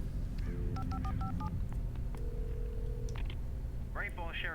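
Telephone keypad tones dialed on a phone in the video game Alan Wake: a rapid run of short beeps, then a longer tone and a ringing trill, loud over steady game background noise.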